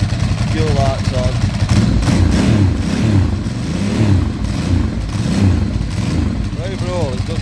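A Ducati motorcycle under restoration runs loud and close with a rough, uneven idle. Mild revs swell and fade while someone talks over the engine.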